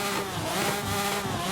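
A Toyota Supra in Forza Horizon 5, fitted with a 6.1-liter V12 making 1,400 horsepower, holds a loud, steady, close-up engine drone with smooth harmonic tones throughout and no talking.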